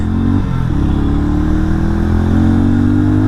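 A Hero Mavrick 440 motorcycle engine revs loudly and close, its pitch climbing smoothly over a steady throbbing idle, with a brief dip before rising again.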